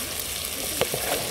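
Mutton fries in a pan during village cooking in Maharashtra, giving a soft continuous sizzling hiss with a couple of faint clinks and scrapes from stirring.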